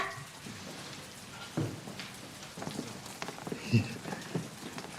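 Heavy rain falls as a steady, soft hiss during a wartime spy drama scene, broken by a few dull thuds that could be footsteps. There is no talking.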